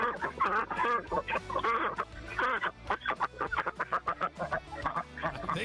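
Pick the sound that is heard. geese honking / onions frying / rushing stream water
geese honking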